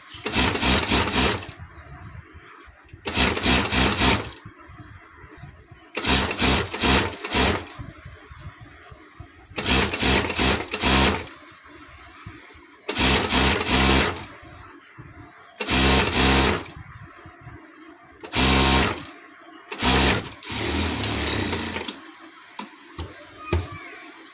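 A sewing machine stitches a narrow double-stitched hem on a sari, in repeated bursts of fast whirring of a second or two each, separated by short quiet gaps throughout.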